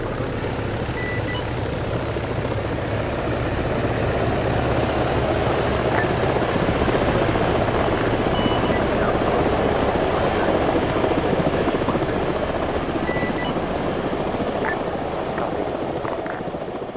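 Helicopters flying in the ARMA 3 military video game, a steady loud broadband rotor and engine roar that holds for the whole stretch without letting up, with a low droning hum underneath.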